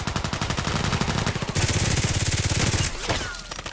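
Rapid automatic gunfire from the video game Contract Wars: loud, fast, continuous bursts of shots lasting several seconds, then a brief pause and a final short burst, alone without any talking.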